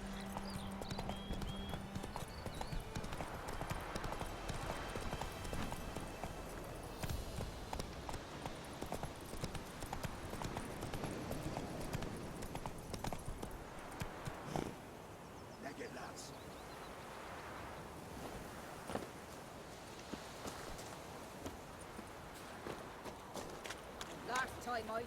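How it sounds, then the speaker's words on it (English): Horse hooves clip-clop steadily in the video game The Witcher 3 as the horse trots and runs, a busy rhythmic clatter over game sounds, with voices talking over it. "My horse is named Roach"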